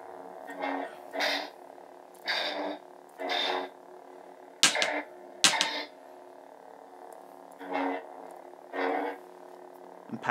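A steady electric lightsaber hum from a Korbanth Graflex 2.0 with a PlecterLab sound board, using a film-derived sound font, buzzes quietly, broken by several louder swooshing swells that come and go at irregular intervals.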